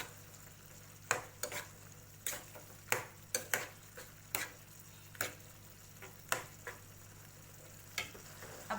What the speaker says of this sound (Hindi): इसे हम अच्छे से मिक्स कर देते हैं ताकि सारे मसाले अच्छे से मिक्स हो जाए